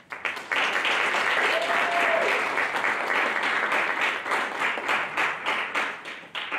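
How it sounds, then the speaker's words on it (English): Audience applause at a student film festival program, a full crowd clapping loudly and steadily after a sharp start, thinning slightly toward the end. "Let's give them a round of applause as well."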